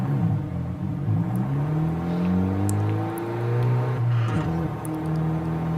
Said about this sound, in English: this car sounds actually really good. I love how this sounds.